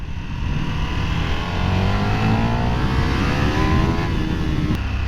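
A KTM 1390 Super Duke motorcycle accelerating hard, its engine note climbing steadily in pitch and staying loud and close for the whole stretch, with no voices.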